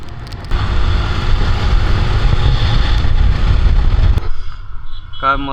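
Cars setting off on a family road trip, a loud steady engine and road rumble filling the whole stretch, dropping away abruptly near the end.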